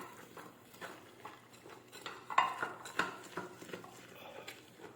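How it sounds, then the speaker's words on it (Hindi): A spoon stirring besan (gram flour) batter for boondi in a bowl, faint scraping and soft clinks repeating irregularly, with a few sharper taps against the bowl near the middle. "अच्छी तरह से इसे हमने मिक्स करना ताकि इसके अंदर कोई भी किसी किस्म की बेसन की गुठली ना रह जाए"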